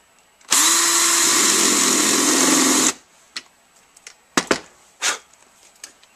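A power drill with a countersink bit whirs steadily for a couple of seconds drilling wood, close and loud, then stops, followed by a few short knocks and clatters.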